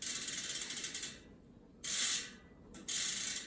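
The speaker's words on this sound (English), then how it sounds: "you can just hear these points of engagement here. I'll click it a little bit for you" Industry Nine Hydra rear hub on a hardtail mountain bike wheel, its ratchet giving a fast, crisp buzzing click in three close spins: a long one, then two short bursts separated by quiet pauses.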